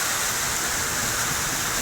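Heavy rain pouring down during a cloudburst in Thalela, a dense, continuous hiss of water with no pauses, close and loud, with no one speaking.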